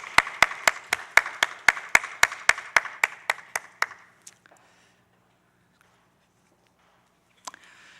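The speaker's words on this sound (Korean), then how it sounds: "하나님께 영광의 박수 올려드리겠습니다" Rhythmic congregation clapping at a church service, steady and crisp, fading out after a few seconds, followed by near silence with a couple of faint knocks.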